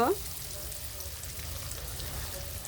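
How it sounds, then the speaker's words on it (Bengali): Chopped cashews and almonds fry on low heat with a faint, steady, even sizzle and a brief clink at the start. "আমি এটা আস্তে জালে ভেজে নিব"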